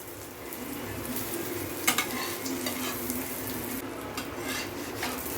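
Chicken jalar murtaba fries gently in a pan over a low flame, giving a soft, continuous sizzle with occasional light clinks and scrapes of a utensil against the pan.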